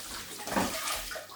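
Running tap water splashes over a fish being rinsed in a kitchen sink, a steady close wash of water with no talking.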